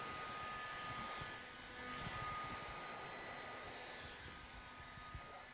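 A heat gun blows over Hexis vinyl wrap adhesive during application, giving a steady, moderately loud airy hiss and fan whir that holds for the whole stretch, with no one talking.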